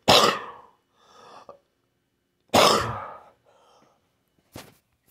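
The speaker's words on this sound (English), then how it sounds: "I had such a bad coughing fit because I'm sick" Person who is sick coughing: three harsh, close bursts spaced a couple of seconds apart, each trailing into a softer wheezy breath, with silence between them.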